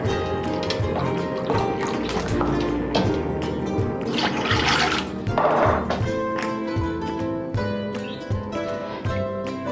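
Water pours into a cooking pot for a Korean fish roe stew, a steady splashing fill running for several seconds with occasional clunks, loud and close, with no talking.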